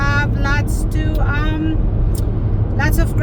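Car cruising along a highway on a long road trip from Saskatchewan to British Columbia, its engine and road noise a loud steady rumble beneath people chatting inside the vehicle.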